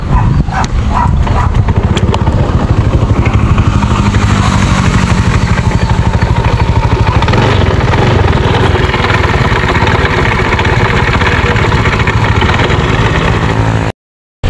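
A broken-down Honda motorcycle engine runs loud and close for about fourteen seconds, a rough continuous rumble with rattling texture and no speech.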